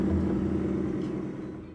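Ford Mustang GT V8 started with the push button, a low rumbling engine note that fades steadily over a short moment, with no talk.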